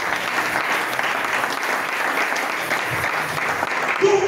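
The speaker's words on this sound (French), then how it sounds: "Acclame le Seigneur" A church congregation claps in sustained, dense applause, loud and continuous, with a few voices cheering faintly underneath.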